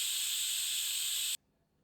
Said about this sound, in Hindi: पकाने के तुरंत बाद कुकर का ढक्कन ना खोलें, अपितु इसमें उपस्थित भाप को स्वतः मुक्त होने दें।